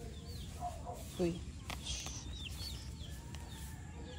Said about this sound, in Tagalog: Dito, pinapa kawalan ang mga manok. Na walang tali.